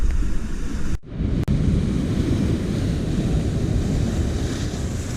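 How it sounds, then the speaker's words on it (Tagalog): Heavy surf on a rough sea crashes and rumbles continuously, with loud broadband wash and wind buffeting the microphone, briefly cutting out near the start. "Napakalakas ng alon."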